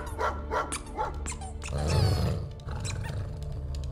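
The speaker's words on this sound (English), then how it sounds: "Cosmo's a dog" In Marvel's Guardians of the Galaxy, the dog Cosmo gives a few barks early on, set against heavy game music and effects that swell loudly in the middle.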